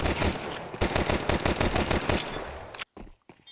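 Rapid pistol fire in a Counter-Strike pro match on the Ancient map: loud, dense shots in quick succession for nearly three seconds, then abrupt quiet with faint game noise.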